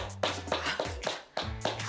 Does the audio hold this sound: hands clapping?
yes